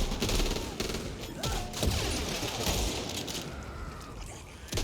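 Heavy gunfire from a firefight in the zombie shooter Back 4 Blood, dense overlapping bursts and shots crackling loudly throughout with little pause.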